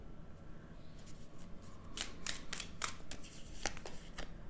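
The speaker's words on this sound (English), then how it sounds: "I'm shuffling in front of you." Tarot cards are shuffled close to the microphone, a quiet run of crisp riffling snaps and flicks in quick succession over a faint background hiss.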